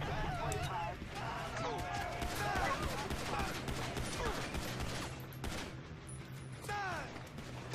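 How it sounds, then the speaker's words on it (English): Gunfire from shooting police officers in the video game GTA 5, a dense burst of shots with busy game action and chatter spread through the whole stretch at a steady, loud level. "it's just badass to just shoot policemen and just see them literally light up on fire"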